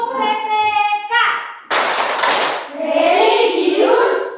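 Schoolchildren stand in a classroom and perform the rhythmic PPK clap chant, clapping and chanting in unison. Sharp bursts of claps alternate with group voices.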